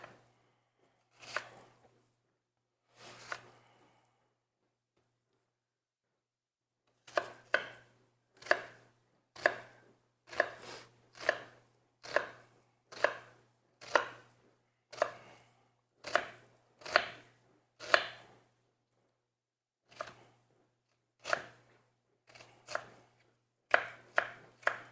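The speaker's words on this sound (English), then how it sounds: "I'm going to finish chopping this onion here because I need 2 cups total of diced onion" A knife chops an onion on a cutting board in close, crisp strokes, first a couple of isolated cuts, then a quick steady run of chops with short pauses; no talking.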